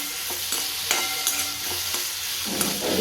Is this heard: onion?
yes